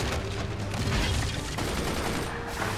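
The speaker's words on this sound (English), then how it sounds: "All right, we've got 5 mortars incoming." Mortar fire in the video game Forts, a dense burst of overlapping booming shots and explosions filling the short stretch, loud and without pause.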